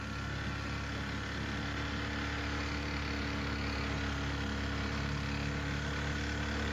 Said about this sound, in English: Let's cut off the engine for a minute and get some peace.